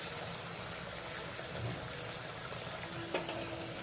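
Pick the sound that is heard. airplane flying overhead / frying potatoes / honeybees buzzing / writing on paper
frying potatoes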